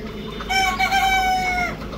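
A rooster on a poultry farm in winter gives one clear, drawn-out crow that lasts just over a second, rising above the low background noise of the flock.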